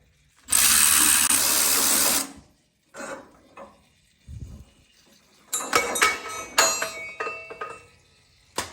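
Metal oil pan coming off a Cummins engine being repaired for racing after bent rods: a loud sustained rush of draining fluid or air up front, then scattered metallic clanks, scrapes and knocks nearby.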